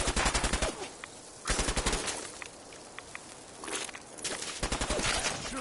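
Video game machine-gun fire in loud, rapid bursts separated by short pauses, with scattered single shots and footsteps between them.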